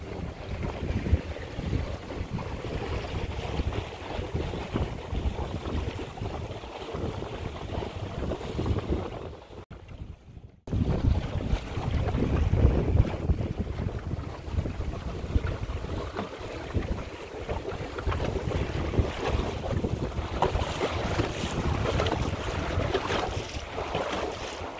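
A sail and oar skiff speeds up under sail on a windy lake: steady rushing wind over the microphone with water hissing and splashing along the hull, continuous and close, briefly cutting out midway.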